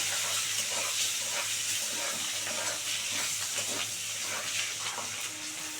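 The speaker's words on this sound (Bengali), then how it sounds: "এই যে ডিমটা ভালো করে একদম লাল করে ভেজে নেবো" Duck eggs frying in hot oil with turmeric, a soft, steady hiss of oil heard at low level throughout, with a faint low hum beneath.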